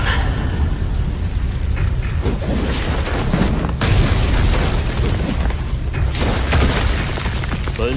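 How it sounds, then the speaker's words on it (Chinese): Bomb explosion in the animated series Soul Land 2, set in a heavily guarded hall: a loud, sustained booming rumble with sharper blasts surging at several points, dense and close throughout. "哪里来的炸弹？"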